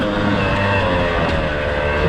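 A 2019 Beta 250RR dirt bike engine drones steadily at high revs, loud and close, with no clear gear changes over the short span.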